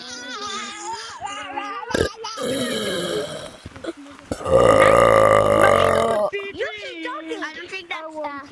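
Several drawn-out human burps alternate with voices, including one sustained loud belch in the middle and a sharper one before it, with talking and vocal noises between them.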